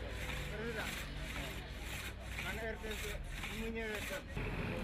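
Two craftsmen in Guédiawaye, Senegal, work a hand saw back and forth through a misshapen wooden log in a steady rhythm, each rasping stroke close and clear.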